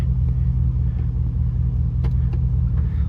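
A 2011 Chevrolet Silverado pickup engine idles with a steady low rumble while shifted slowly through each gear after a transmission fluid change, held constant throughout with a few faint clicks on top.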